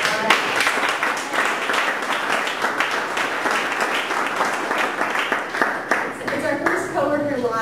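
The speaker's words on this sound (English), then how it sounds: "If we could just do like a round of applause." An audience at a coworking-space tech meetup gives a round of applause, dense and steady clapping that fills the room, with a voice emerging faintly near the end.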